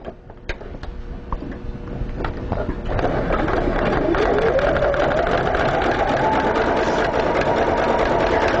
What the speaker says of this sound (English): so now I'm just going to zigzag over this again